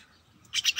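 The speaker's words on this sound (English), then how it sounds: "Is a Martin bird" A pet myna bird gives a quick run of three loud, bright chirps close by after a brief quiet lead-in, with no talking.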